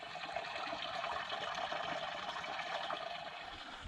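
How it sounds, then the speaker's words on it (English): Water stream flowing roughly six feet underground near an old town, heard through solid ground as a steady, faint, continuous rushing wash with no voices. "There is a solid water stream running beneath us right here."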